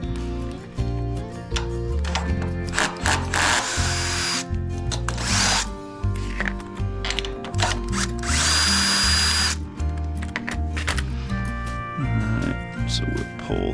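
A power drill spins off the 13 mm carburetor hold-down nuts on a 35-ton log splitter in short, loud bursts of whirring separated by brief pauses, with a voice heard between bursts.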